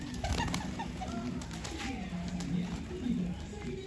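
Pigeons coo softly in repeated low phrases while being fed, with people talking nearby and scattered small clicks and rustles.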